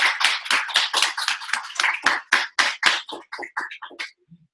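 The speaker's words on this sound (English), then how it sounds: "we owe a huge round of applause to all the art teachers out there" Audience applause at a UNESCO art event, a quick burst of loud hand claps from a smallish group that thins out and stops, with no voices over it.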